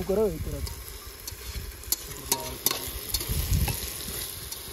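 Maggi noodles stirred and frying in a pan, with close scraping and sizzling throughout and a brief voice at the start.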